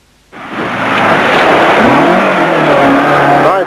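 A rally car on a 1985 Carrick on Suir forest stage bursts in loud and close after a moment of quiet, its engine revving hard and climbing in pitch as it passes, with a brief tire squeal.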